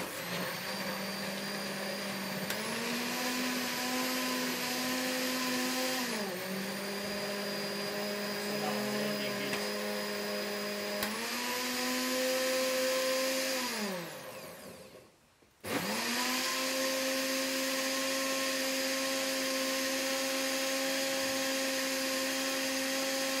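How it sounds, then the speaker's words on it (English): A blender whirs loudly and steadily blending carrot and beetroot with a little water, its motor pitch dipping and rising as it churns, then winding down, stopping briefly and starting up again. "Now I'm going to put it into a blender."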